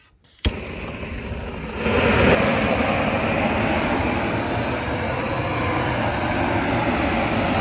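A torch scorching the surface of a smooth, debarked wooden board for gazebo wall cladding. It lights with a sharp pop, then settles into a loud, steady, close roar that continues to the end.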